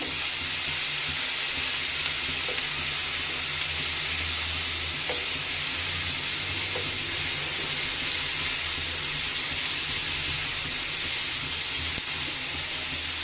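Mixed vegetables stir-frying with vinegar for spring roll filling in a hot pan: a continuous, even sizzle with a few faint clinks of stirring, and no talk.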